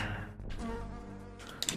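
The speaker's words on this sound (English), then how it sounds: "There's a big old beehive here." Bees at a big beehive in the video game Lecarde Chronicles give a buzzing, droning hum with layered tones that holds for a moment, then breaks into brief higher chirps near the end.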